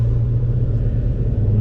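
A 2016 Ford F-150 with the Coyote engine rumbles low and steady while driving, a constant deep drone with no speech over it.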